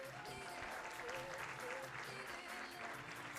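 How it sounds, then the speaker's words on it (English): An audience at a pageant swimwear preliminary show claps in a sustained, fairly quiet burst of applause that carries on throughout, with a murmur of crowd noise underneath. "give a round of applause for Stephen"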